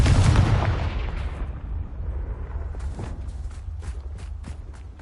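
A Confringo blasting spell explodes in Hogwarts Legacy: one loud, close burst at the start, then a rumbling tail that fades, with a few sharp crackles near the end.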